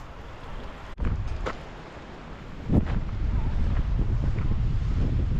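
Strong wind buffets and rumbles across the microphone in gusts at Two Medicine, with a couple of sharp knocks and a constant roaring background.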